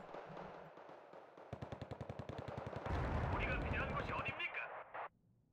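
Mortar shells and gunfire in the real-time strategy game Wargame: Red Dragon: rapid rhythmic bursts of shots build into a dense, loud barrage of blasts and rumbling fire, with a voice talking briefly under the opening moments.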